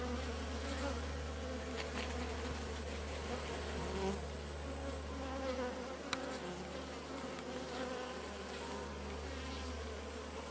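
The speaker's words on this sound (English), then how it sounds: "if you see bees coming straight out and coming straight back in, that means you got an active laying queen" A steady, dense drone of honeybees flies in and out of a hive in a bee yard during early spring pollen season, a continuous close buzzing swarm with a low hum underneath and no talk.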